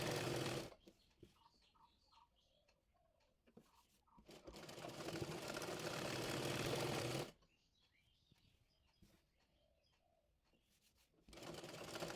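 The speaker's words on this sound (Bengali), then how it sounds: "এবার কাপড়টি দুই ইঞ্চি মুড়িয়ে সেলাই করে নেব" An electric sewing machine stitches a two-inch folded fabric hem on a salwar, running in three loud, steady whirring bursts separated by near-silent pauses where faint bird cooing is audible.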